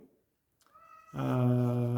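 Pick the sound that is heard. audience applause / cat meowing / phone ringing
cat meowing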